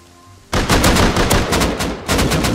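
Fully automatic AK rifle fire in the survival game Rust, a loud rapid burst that cuts in abruptly, runs for about a second and a half, briefly pauses, then resumes, with no voices.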